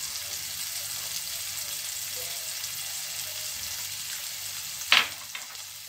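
Sliced onion rings seasoned with salt and pepper fry in a pan with a steady, close sizzle. A short sharp clatter sounds near the end, and no one speaks.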